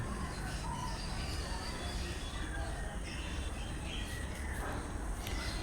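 Finches and other caged birds chirp in a dense, continuous chorus at the Garia bird market, with thin high calls overlapping steadily against busy market background noise.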